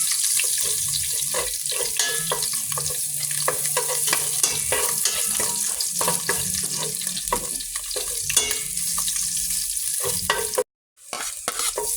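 Garlic fries in a hot pan with a continuous crackling sizzle while a spatula stirs it in frequent rhythmic scrapes. A brief gap of silence comes near the end, and no one speaks.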